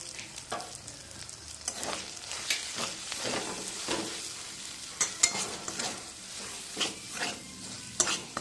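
Spice paste with chilli and turmeric powder is stirred and sautéed in a pan, with a close, continuous sizzle broken by repeated rhythmic scraping strokes and occasional sharp clinks of the utensil; no voices.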